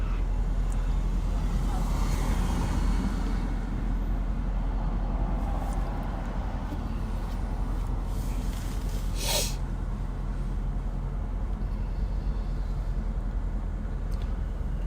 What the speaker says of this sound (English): There's been a lot more traffic than usual.